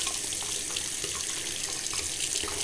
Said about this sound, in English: slowly run water through there as well